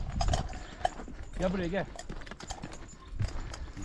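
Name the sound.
donkey hooves clip-clopping while being ridden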